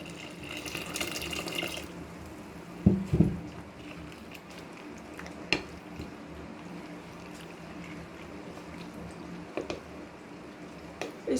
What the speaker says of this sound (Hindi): दोबारा से पानी शामिल करूँगी।